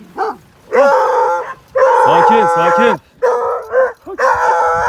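A dog close by lets out a series of loud barks and yelps in short, irregular bursts, with someone speaking briefly between them.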